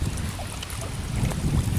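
Wind gusts buffeting the microphone on a river during a tubing and fishing outing, a loud, steady low rumble that swells toward the end, with no talking.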